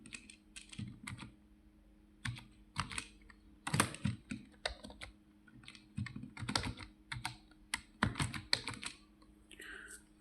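Someone types on a computer keyboard connected to a mobile phone, producing quiet, close bursts of rapid keystroke clicks separated by short pauses over a low background hum.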